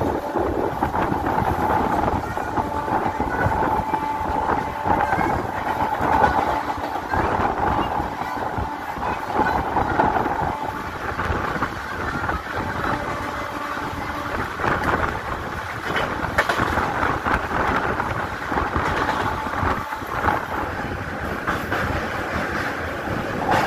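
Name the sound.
Santragachi–Digha special train running after leaving Tamluk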